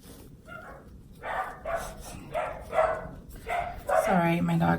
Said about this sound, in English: Sorry, my dogs were barking.